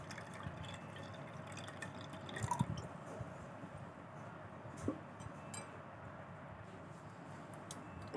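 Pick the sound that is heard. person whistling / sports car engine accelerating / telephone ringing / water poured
water poured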